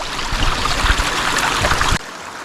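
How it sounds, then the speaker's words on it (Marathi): Close, steady trickle of cold spring water flowing from under rock in Konkan, with a bubbling broadband rush that cuts off abruptly near the end, leaving quieter background. "ते कातळाच्या खालतून थंड थंड मस्त पाणी येत आहे"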